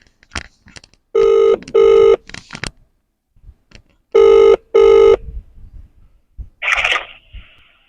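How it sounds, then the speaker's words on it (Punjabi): An outgoing phone call rings back in two loud double-ring bursts separated by a pause, with faint background sounds between them. "ਫੋਨ ਲਾ ਰਹੇ ਜੀ"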